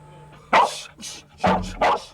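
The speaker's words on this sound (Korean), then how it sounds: "핸들러가 현장에 올 때까지 계속 짖어야 합격이다" A search and rescue dog in missing-person training barks in a series of four sharp, loud barks at close range, with short pauses between them and no one talking.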